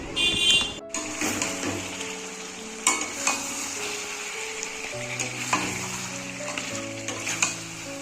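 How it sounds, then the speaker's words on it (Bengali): Steady sizzling of carrots frying in a pot, close and continuous, with occasional scrapes and clinks from stirring. "আর এই গাজরটা ভাজা বসিয়েছি"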